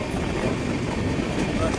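A passenger train rides along the rails with a steady, loud rumble and rattle from inside the carriage, a constant noise with no break.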